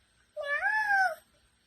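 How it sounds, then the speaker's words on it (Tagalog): A cat gives a single clear meow, close and distinct, rising and falling over under a second against near silence. "Sabi ng cat."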